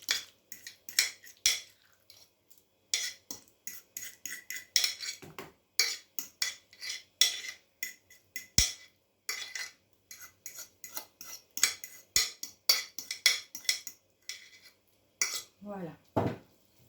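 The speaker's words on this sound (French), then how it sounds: "je vais donc étaler sur ma pâte feuilletée" A utensil spreads a cream cheese mixture across puff pastry, producing a series of soft scraping and tapping strokes in an irregular rhythm, close and fairly quiet, with no talking.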